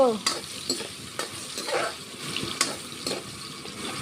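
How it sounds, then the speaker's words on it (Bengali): Potatoes fry in hot oil in a pan while being cooked for a Bengali pabda fish curry with brinjal, making a close sizzle with irregular clinks and scrapes of a stirring utensil, and no voices. "আলুটা ভেজে নিচ্ছি"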